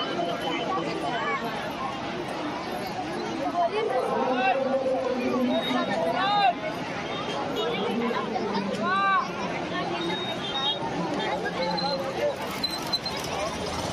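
A large crowd chatters in dense, steady babble at a food distribution for a Shiv Mahapuran katha, with many nearby voices overlapping continuously and occasional louder calls.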